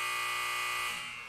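A loud, steady electronic buzzer drones close up for over a second, then fades slightly toward the end with no voices.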